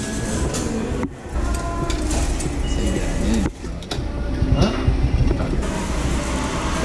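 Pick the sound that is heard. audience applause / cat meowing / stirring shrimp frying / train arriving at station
train arriving at station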